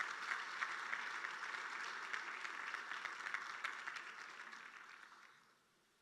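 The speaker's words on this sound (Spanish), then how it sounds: "¿Por qué no le damos un fuerte aplauso al Señor Jesús por eso?" A church congregation claps for Jesus during a Spanish-language teaching on Luke chapter 7. The applause is dense and steady for about five seconds, then thins and fades to near silence.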